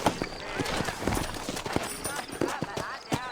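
Horse hooves clip-clop at a steady trot in Red Dead Redemption, a loose run of clear near strikes heard under a character's talk.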